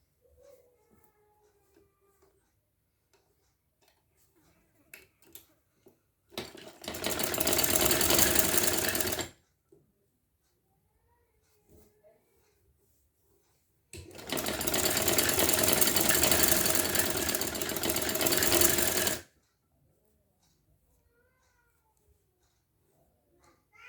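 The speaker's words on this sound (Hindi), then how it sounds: "अब यहाँ से हम सिलाई करेंगे इस तरह से, इस तरह से।" An electric sewing machine stitches trousers in two loud, steady runs of whirring, one of about three seconds and a longer one of about five, separated by near silence with faint bird calls in the background.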